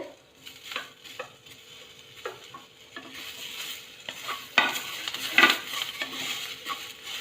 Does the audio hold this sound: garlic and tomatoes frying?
yes